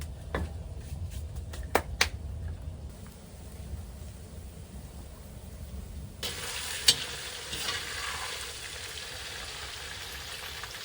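Sheep tail fat renders in a kazan with a whole onion still in its skin, bubbling and sizzling steadily up close, with a few sharp pops early on and a louder burst of frying later.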